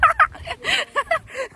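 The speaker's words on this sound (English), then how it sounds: "I'm being chased by a grouse." A ruffed grouse on the Appalachian Trail gobbles and clucks in several sharp, loud bursts close by, its calls coming in an uneven rhythm with short pauses between them.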